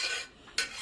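Curry (spinach and lentils) is scooped from a pressure cooker into a bowl, with two short metallic scraping strokes of a spoon against the pot, close and fairly quiet, with no talk.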